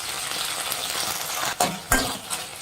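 Chicken 65 pieces frying in hot oil, restaurant style, make a continuous close sizzle, with two sharp metallic knocks of a utensil near the end.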